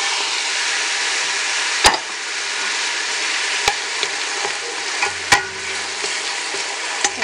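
Tomatoes tipped into a hot frying pan with onions for hamburger soup, a steady bright sizzle with a few sharp clacks of a spoon scraping and stirring against the pan.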